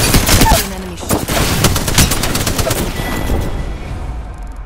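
Rapid bursts of enemy gunfire in a ranked shooter video game crackle loudly and densely, volleys overlapping almost continuously with a brief bird-like chirp early on.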